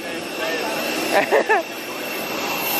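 Steady airplane cabin engine roar during a flight, a broad constant drone filling the whole moment, with a brief voice rising over it.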